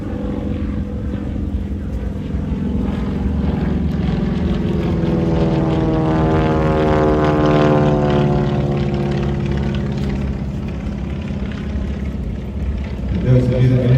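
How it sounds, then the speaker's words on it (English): Propeller aircraft flying past at an air show, a loud droning engine whose pitch sweeps as it passes overhead, steady and prominent, with crowd and commentary sounds faintly beneath. "Those of you that are into your Second World War aircraft, you look at that and you go, wow, that looks like a Lysander."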